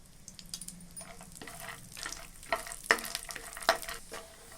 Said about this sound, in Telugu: ఈ నెయ్యిలో మనం తీసి పెట్టుకున్న డ్రై ఫ్రూట్స్ అందులో వేసి వేయించుకోవాలి